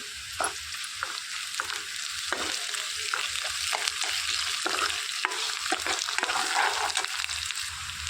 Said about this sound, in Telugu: ఇందులోనికి అల్లం వెల్లుల్లి పేస్ట్ ఒక చిన్న స్పూన్ వేసేసుకొని పచ్చివాసన పోయేంత వరకు వేయించుకోవాలి